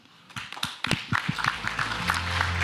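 Audience clapping for a women's organization panel at a European Socialists labour event, starting as scattered close claps and then swelling into a steadier wash of applause, with a low hum running beneath.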